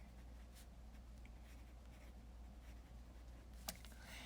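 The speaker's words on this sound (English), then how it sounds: "I'm actually just gonna date it with my Paper Mate Flare." A Paper Mate Flare felt-tip pen writes a date on a Bible journaling page, making faint, soft scratchy strokes in a quiet room, ending with a small tap.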